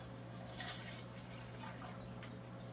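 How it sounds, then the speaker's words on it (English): Water pours gently into a cup, a soft, quiet trickle and splash over a low steady hum. "we got some water, y'all. We'll just pour it all in there."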